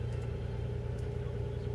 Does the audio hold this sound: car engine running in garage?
yes